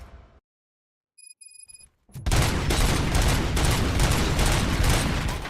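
Gunfire in RoboCop: Rogue City, a few faint beeps giving way to a sudden, loud, sustained barrage of rapid automatic shots and booms that continues to the end.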